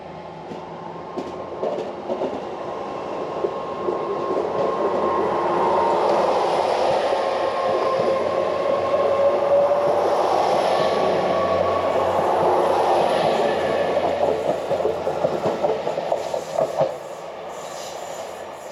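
A GWR Class 800 train pulls out of Redruth station, its rumble and wheel noise building to a steady roar near the microphone before easing slightly as it departs.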